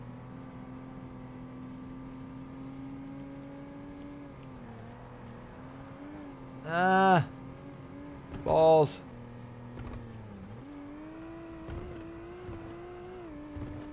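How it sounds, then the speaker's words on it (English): A race car engine drones steadily through a Forza Motorsport race, with two short loud revving bursts rising sharply near the middle, while someone talks over the gameplay. "Try not to over-rev the engine."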